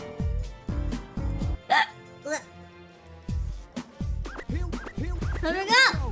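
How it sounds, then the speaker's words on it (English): Repeated sharp hiccups, loud and close, punctuate a voice and background music in an uneven rhythm. "I can't stop hiccuping in the meantime."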